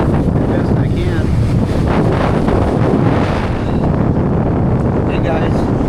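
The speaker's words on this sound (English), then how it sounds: "The wind's picked up quite a bit." Strong coastal wind buffets the microphone steadily throughout while kayak fishing in the surf near Fort Fisher, North Carolina, a loud constant roar with water and waves beneath it.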